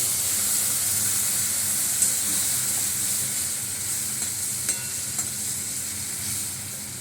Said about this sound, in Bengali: এই যে হলুদ গুঁড়ো, লঙ্কা গুঁড়ো গুলিয়ে রেখেছি, জলটা দিয়ে দিলাম।